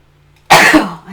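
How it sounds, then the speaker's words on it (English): A single sharp sneeze bursts out loud and close after near silence, followed by a brief trailing breath. "I always sneeze more than once."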